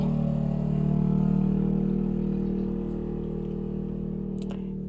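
A vehicle passes outside as a low, droning engine rumble that builds, holds, then slowly fades, heard steadily in the background with no talking.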